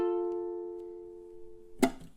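A ukulele's finger-picked notes from a passage of a song ring out and slowly decay, sustained and clear, then a short muffled knock near the end.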